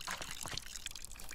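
Seeds being watered in the Botany Manor video game, a short trickling, splashing pour of water that is close and fairly steady, with no talking over it.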